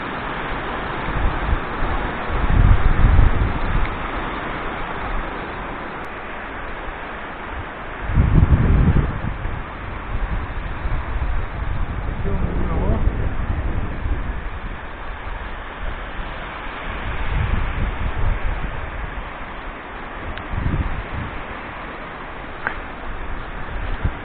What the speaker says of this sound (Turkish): Rüzgar şiddetini arttırdı.